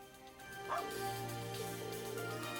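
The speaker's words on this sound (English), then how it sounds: "The dog!" A dog barks in the video game Trails of Cold Steel 4, a few short yips and barks heard faintly over steady game music.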